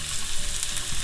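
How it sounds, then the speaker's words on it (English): Onions and tomatoes sizzle steadily in hot olive oil in a pan over medium-high heat, a dense close frying crackle with faint stirring, with no talk. "See, they're sizzling up nicely."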